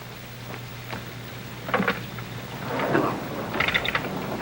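Thunderstorm with steady rain, scattered rumbles and crackles of thunder rolling in at intervals over a constant wash of rainfall, with no voices.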